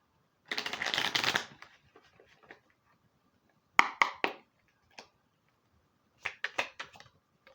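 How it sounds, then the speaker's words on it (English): Tarot cards being shuffled by hand in quick, papery riffling bursts, one long flurry followed by two shorter clusters of crisp flicks, close and clear in a quiet room. "One quick shuffle."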